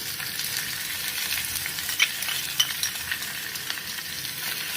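A steady, hissing sizzle of onions and garlic frying in a pan until browning for sarson ka saag, close and constant, with a few faint stirring clicks and no voices.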